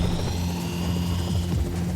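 A Coast Guard rescue helicopter hovers nearby at sea, its rotor producing a loud, continuous low thrum with steady engine whine and no talking.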